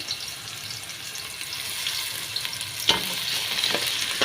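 Onions already browned in a pan now frying with crushed ginger-garlic paste for a Kuwaiti-style chicken tomato rice, a steady close sizzle with occasional stirring scrapes and clinks, no voices.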